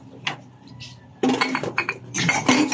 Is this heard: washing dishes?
yes